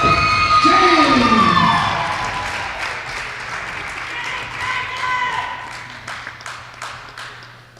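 A wrestling arena crowd cheers and shouts, loud at first, then settles into scattered clapping and whistles with an announcer's voice over it.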